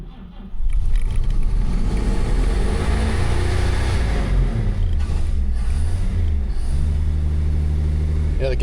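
An old junkyard car with a new oil pan is driven under its own power, its engine rumbling and surging close up with revving swells while someone talks over it.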